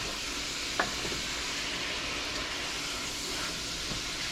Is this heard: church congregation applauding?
no